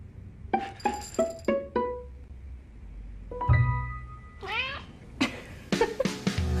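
A cat meows in a Meow Mix cat food commercial: a quick series of short, bright meows, then one longer wavering meow, mixed with light glassy clinks and rattles near the end.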